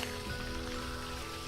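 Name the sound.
rain in the video game Virtual Villagers 4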